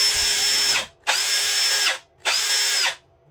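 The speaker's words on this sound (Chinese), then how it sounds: "然后听这个电钻的声音呢，" A Dongcheng 05-13 cordless drill with worn brushes and a faulty gearbox runs in three short bursts of about a second each, giving a loud, shrill, high whine with brief silences between.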